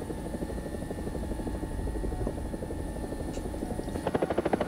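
A Chinese helicopter in the video game War Thunder drones with a steady, dense rotor thrum that grows into distinct rapid blade chops near the end, loud and continuous without speech.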